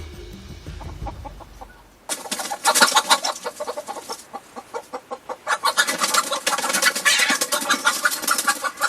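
Farm chicken in winter countryside clucking in a rapid, busy series of calls, fairly close and loud, after a quiet stretch of low rustling; no talk.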